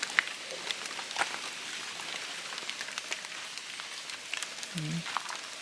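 Steady light rain falls in a mountain forest, a soft continuous patter with occasional brighter drips, and a brief low voice near the end.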